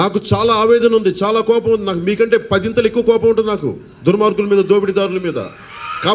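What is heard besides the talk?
No everyday noises stand out.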